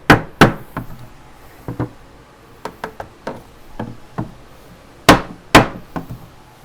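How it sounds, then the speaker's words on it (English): A mallet knocks a wooden box joint together in a woodworking shop, sharp hollow thumps in uneven bursts, two loud blows opening and closing a run of lighter taps, close and alone. "let's put some clamping pressure and a little bit of mallet and see what happens"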